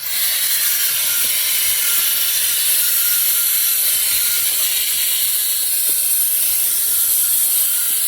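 K&F Concept BS500M electric air duster running on suction, a steady, loud high-pitched whooshing hiss held evenly throughout with no pauses.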